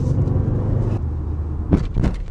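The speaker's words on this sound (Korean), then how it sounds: "거칠게 만들어진 과속 방지턱인데 아주 강하게 맞받아치면서 넘어가는데" Steady road rumble from inside a moving Renault Samsung The New SM6, then a couple of sharp thumps as the wheels jolt over a rough speed bump.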